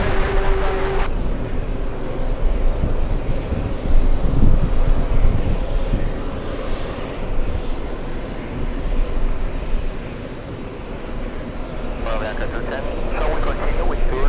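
A trijet airliner rumbles on an airport runway, a steady, loud engine roar with a brief radio voice at the start and crackling radio chatter near the end.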